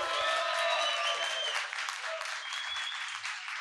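Audience applause in a room, steady and fairly loud, fading slightly toward the end with no talk over it.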